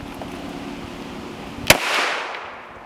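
A single HK VP9 pistol shot fired at a rolled-up carpet, one sharp, loud crack that rings out and fades over the following second, with quiet outdoor background before it.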